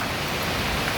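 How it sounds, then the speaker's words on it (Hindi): Heavy monsoon rain pours down in Shimla, a dense, even rushing hiss that fills the whole moment without breaks, close and steady, with no voices. "अब बारिश हो रही है, और बारिश भी एकदम झमाझम"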